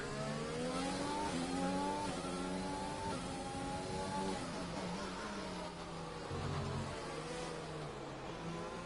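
Several race cars battling in an F1 video game at the Baku Azerbaijan Grand Prix, layered high-revving engine whines rising and falling through gear changes, loud and continuous throughout.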